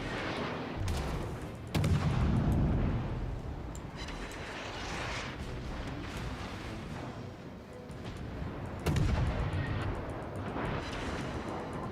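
An automated gun battery fires at boats in a naval video game, producing rumbling bursts of artillery-like fire with sharper heavy booms near the start and again toward the end, over a continuous low roar.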